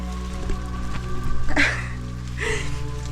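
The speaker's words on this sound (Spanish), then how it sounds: "Acaba de empezar a llover." Rain beginning to fall on a mountain refuge shelter during a trail run, a soft steady patter under a low constant hum, with a couple of brief louder bursts.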